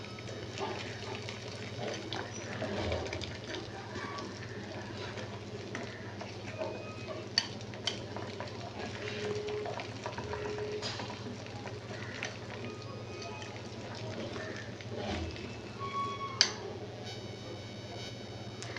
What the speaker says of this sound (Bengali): এটা 1 থেকে 2 মিনিট ভালো করে ফেটিয়ে নিতে হবে।